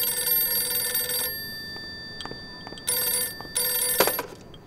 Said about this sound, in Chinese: 电话，哎，好像是那个李小姐